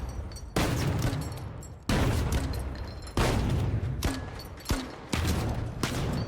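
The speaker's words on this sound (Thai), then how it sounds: "ต้องยิงเด้งหนึ่งครั้งมันถึงจะระเบิด" Explosive rounds from a Heavy class weapon in the shooter game The Finals go off as five heavy booming blasts at roughly one-second intervals, each with a long rumbling tail, loud and close.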